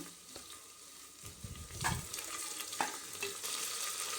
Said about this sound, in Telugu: ఈ అల్లం పేస్ట్ని పచ్చివాసన పోయేంత వరకు వేయించుకుందాం.